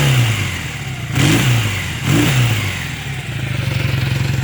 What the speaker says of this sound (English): And rev it up for you.